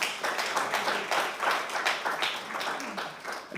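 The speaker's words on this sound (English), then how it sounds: "Let's give both of them a round of applause." A round of applause at an archive awareness event, dense overlapping clapping from a small crowd that swells and fades in waves and stays fairly close throughout.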